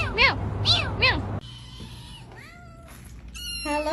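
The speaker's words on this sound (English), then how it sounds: "Meow, meow, meow, meow, meow." Several cats meow in quick succession, a few rising and falling cries at close range followed by softer, higher mews, with faint room noise between them.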